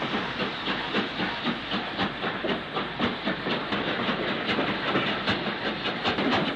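A 1960s steam train passes through Stoke station with a steady, dense rumble, rhythmic wheel clatter and broad hiss, loud and continuous throughout.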